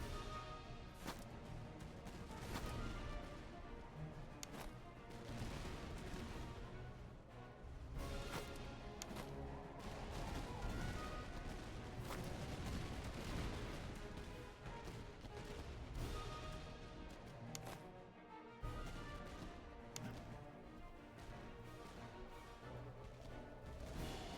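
Dense, continuous battle din of musket volleys and artillery fire from the strategy game Master of Command, fighting as the Swedish side, with repeated cracks and booms rolling steadily at high loudness.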